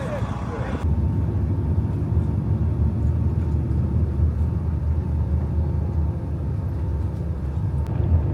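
A tour bus on an Alaska glacier tour drives along with a steady low engine rumble and road noise heard from inside the cabin.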